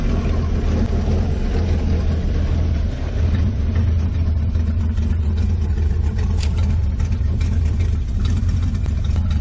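A 1969 Ford Mustang engine with a Summit cam idles with a deep, lumpy rumble, steady and close, with no talking over it.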